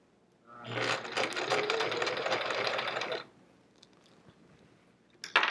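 A sewing machine runs steadily for about two and a half seconds, stitching a quilt seam with a fast, even mechanical chatter, then stops and leaves near silence before a brief clack.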